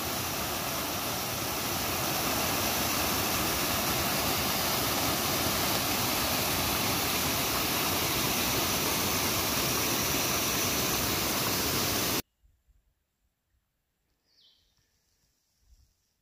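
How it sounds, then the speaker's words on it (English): A waterfall beside a hiking trail near Winding Stair Gap on the Appalachian Trail roars as a loud, steady broadband rush for about twelve seconds, then cuts off to near silence with faint outdoor sounds. "already got a waterfall."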